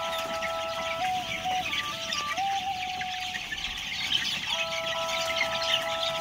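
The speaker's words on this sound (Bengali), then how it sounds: "এগুলো খায়রুল ভাইয়ের ইনকিউবেটর মেশিন দিয়ে এই মুরগিগুলো ফোটানো হয়েছে।" Young chickens around 20 days old on a poultry farm, a steady flock of high peeping and clucking calls layered together at moderate distance, with no talking.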